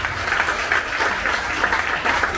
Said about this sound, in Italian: Facciamo un grande applauso